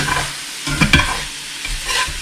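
Ground beef, 80-20, browning in a pan while being stirred, giving a close, loud sizzle broken by a few quick scraping stirs over a couple of seconds, with no talking.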